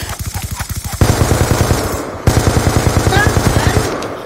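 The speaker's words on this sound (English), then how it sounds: "I sprayed a full mag into him" Automatic gunfire in Call of Duty Black Ops II: rapid, evenly spaced loud shots in long sustained bursts, broken by two short pauses, close and dominant.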